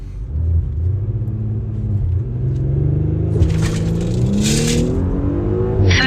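B9 Audi SQ5 with its resonator deleted pulls hard under acceleration, a loud deep exhaust drone rising steadily in pitch through the gears, with rattly bursts near the end.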